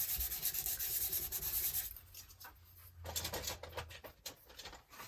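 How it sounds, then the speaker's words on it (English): An emery board rubs back and forth across the glossy laminate backing of Halloween ephemera during a journal build, a soft, dry sanding scrape that stays steady and close, then eases into lighter, patchier strokes. "Just give it a rub with the emery board."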